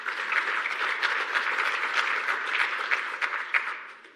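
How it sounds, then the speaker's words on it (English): A symposium audience on climate resilience applauds in a steady, dense wash of clapping for several seconds. The applause fades out toward the end. "please give them a round of applause for all the work they have done to bring us all here"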